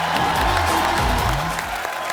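Studio audience of a Hindi TV comedy show cheering and clapping to welcome actor Randeep Hooda, a loud, dense burst of applause and whoops filling the whole moment.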